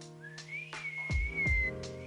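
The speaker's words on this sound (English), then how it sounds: "Maybe if you try whistling." A melodic whistle in the video game Ghost of Yotei glides and wavers over a steady electronic hum, with soft thumping footsteps and short rustles around it.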